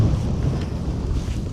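Strong wind buffets the microphone on the shore at Flinders during squid fishing, a steady low roar with gusty surges and no voices.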